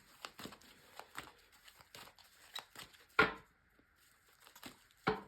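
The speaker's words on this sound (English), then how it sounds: "So first of all, a good shuffle." Tarot cards shuffled by hand for a full moon reading, a series of soft papery riffles and taps, with two sharper louder card slaps near the middle and the end, close and otherwise quiet.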